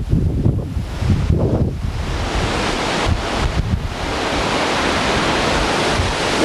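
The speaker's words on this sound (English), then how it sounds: "Wind's gusting now." Hurricane-force wind at a beach roars steadily and gusts against the microphone, a loud continuous rush with surging bursts and no voices.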